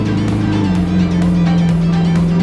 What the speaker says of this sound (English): We're going to turn the ignition on.